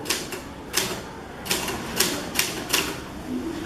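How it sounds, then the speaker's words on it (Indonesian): A typewriter clacks out a manuscript in a dramatised re-enactment of Indonesia's independence proclamation, with loud, crisp keystrokes in small irregular clusters against a quiet background. "Setelah Said Melik selesai mengetik naskah"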